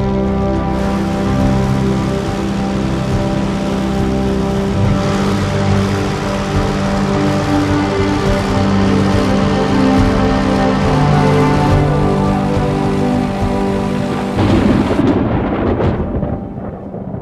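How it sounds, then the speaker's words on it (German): A powerful thunderstorm with heavy rain over the Alps: a dense, steady roar of downpour with rumbling thunder throughout, loud and close, swelling briefly near the end. "Die mächtigen Gewitterwolken entladen sich als Regen über dem Land."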